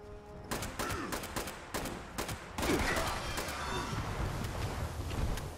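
Rapid gunfire in the video game Fallout 76, with a burst of sharp repeated shots followed by denser rattling fire and explosive crackle over a continuous game background.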